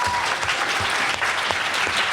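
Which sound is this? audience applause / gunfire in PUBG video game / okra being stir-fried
audience applause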